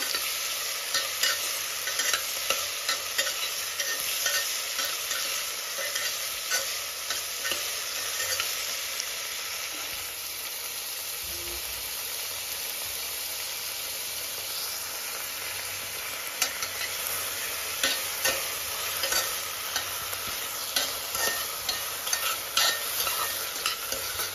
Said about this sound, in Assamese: এতিয়া পিঁয়াজখিনি ৰঙচুৱাকৈ ভাজি ল'ব লাগিব